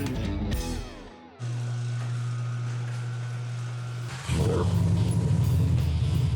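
A Mopar car's engine rumbles steadily at close range as it heads out for a ride, its low drone shifting pitch partway through and then swelling louder and rougher.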